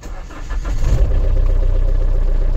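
A Fiat Ducato 2.8 van engine cranks and catches, then settles into a steady, close idle rumble.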